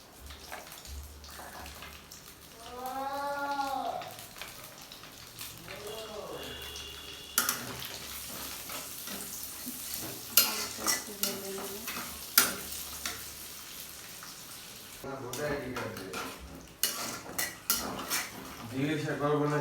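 Chopped onions hit hot oil left over from frying chicken, starting a soft sizzle under clattering pots, a scraping spatula and scattered utensil knocks, with a voice talking intermittently over the cooking sounds.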